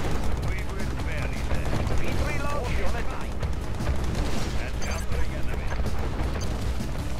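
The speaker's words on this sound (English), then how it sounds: "Stupid Gatling tanks." Gatling tanks in Command & Conquer: Red Alert 2 fire in rapid, continuous bursts, a dense rattling gunfire mixed with explosions and battle effects, with a voice talking over the action.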